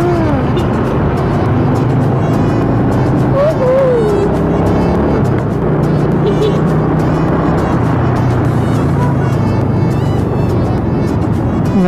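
Sunday street traffic in Baclaran, Manila, heard from a moving motorcycle carrying a passenger: a constant engine drone and road rumble, with passing vehicles and a few horn beeps rising over the mix.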